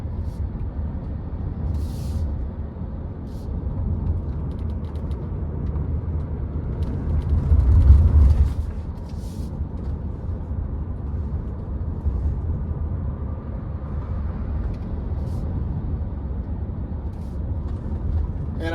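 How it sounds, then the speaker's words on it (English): Road noise inside the cabin of a Hyundai Ioniq 5 while driving, with insulated front glass: a steady, muted low rumble that swells briefly midway, heard throughout with no speech over it. "I'm hoping you can tell the difference in ambient noise coming through into the cabin."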